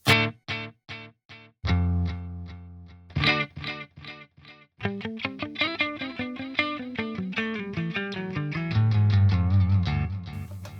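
Electric guitar run through a TC Electronic Plethora X5 pedal board in the FX loop, with compression and delay: separate plucked notes and then strummed chords that ring out, with delay tails trailing each attack, and no talk over it.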